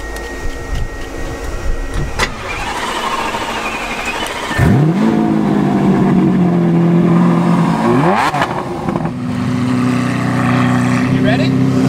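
A Lamborghini Aventador revs and pulls away, its engine climbing in pitch in two strong rising sweeps before settling into a steady loud drone, close by and with no talk over it.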